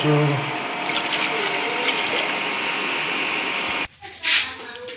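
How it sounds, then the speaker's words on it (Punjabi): Water gushes steadily from a tap or pipe into a container, a broad continuous rush that stops abruptly near the end, followed by a brief splash and dripping. No one speaks. "ਪਾਣੀ ਆ ਰਿਹਾ ਆ ਰਿਹਾ ਪਾਣੀ ਆ ਰਿਹਾ"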